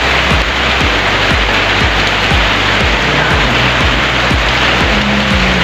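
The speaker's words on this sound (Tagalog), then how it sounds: "Maulan talaga siya guys." Heavy rain pours down as a loud, dense, steady hiss with no pause, and no one talks.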